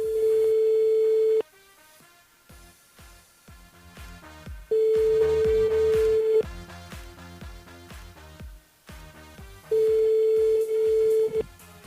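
Telephone line ringing out to a radio call-in caller, three long steady ring tones at regular intervals with quieter, varied background sound between them.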